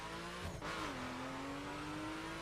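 A RUF RT35 in The Crew video game, a steady engine drone that dips briefly near the start, then climbs smoothly in pitch as the car accelerates, with no talk.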